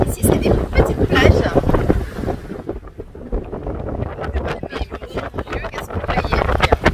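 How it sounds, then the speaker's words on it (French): Strong wind on a small beach on Huahine, French Polynesia, buffets the microphone in loud, rumbling gusts that ease for a moment then build again, with voices talking faintly underneath. "il y a du vent aujourd'hui"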